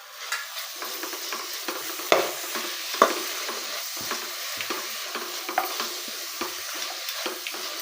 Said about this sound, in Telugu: తురుము పెట్టుకున్న క్యారెట్ అండి, ఇది కూడా బాగా మంచిగా ఫ్రై చేసుకోవాలి